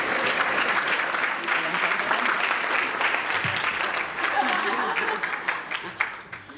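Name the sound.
applause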